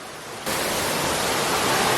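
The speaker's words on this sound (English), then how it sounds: "we're at the waterfall" Twin Falls waterfall on the Gold Coast, a dense, steady roar of falling water that swells from a quieter start to a loud, unbroken wash close by, with no voices over it.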